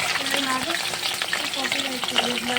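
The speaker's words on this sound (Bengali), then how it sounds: "আর এইখানে দেখো ভাজা হচ্ছে ইলিশ মাছ" Hilsa fish fries steadily in hot oil, producing a continuous close sizzle with crackling pops and faint stirring throughout, no voices.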